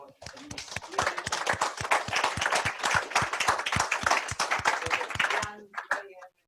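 A seminar audience applauds together in a steady, dense burst of clapping that lasts several seconds and then stops abruptly, with a few scattered claps trailing at the end.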